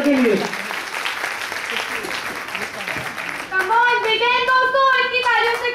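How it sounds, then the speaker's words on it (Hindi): A seated audience gives a motivational speaker a round of clapping, dense and steady, and a loud amplified voice starts talking over it partway through. "जोरदार तालियां सर के लिए।"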